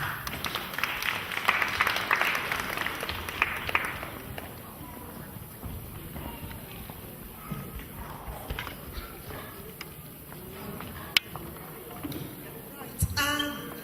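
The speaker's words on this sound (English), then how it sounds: "Can I give a round of clap for him, please?" Audience applause at a Nigerian Independence Day celebration in Bristol, a dense burst of clapping early on that fades into quieter scattered claps and room murmur, with a few sharper claps near the end.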